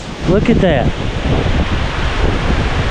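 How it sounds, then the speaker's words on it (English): Strong, fierce wind roars and buffets the microphone steadily at an outdoor cemetery, with someone speaking briefly near the start. "Man, that wind is fierce."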